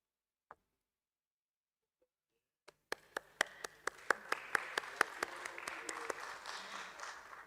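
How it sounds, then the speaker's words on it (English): Audience at a Capital Small Finance Bank listing ceremony at BSE, with a few isolated claps at first, then a run of sharp separate claps quickly building into steady applause from a crowd. "Let's have an applause for them while they're coming on stage."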